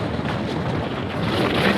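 Monsoon wind near Nandi Hills blows hard across the microphone, a low, rumbling buffet that surges and eases slightly, loud and close with no other sounds.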